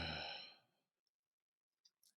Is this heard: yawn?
yes